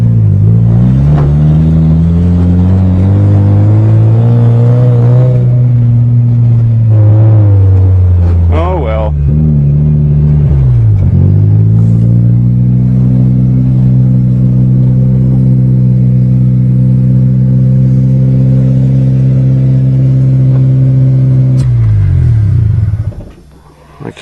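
A Toyota GTS car engine held in first gear drones loud and close for a long stretch, its pitch rising and dipping with throttle changes before cutting off abruptly near the end.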